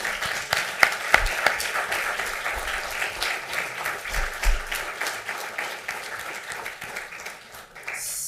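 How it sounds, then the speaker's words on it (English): Audience at a county board meeting applauding steadily for several seconds, a room-filling patter of hands with a few sharper claps near the start and no talking over it. "we can clap for them"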